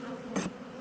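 A single black honeybee buzzes past briefly and faintly near a winter hive, a soft rising and falling hum lasting a fraction of a second over quiet outdoor background.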